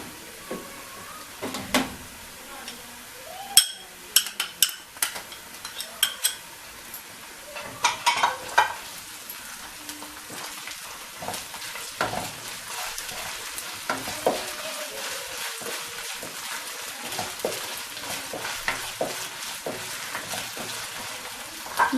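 Ginger garlic paste frying with golden onions in a pan, a soft continuous sizzle broken by repeated sharp stirring scrapes and clinks, with no talking.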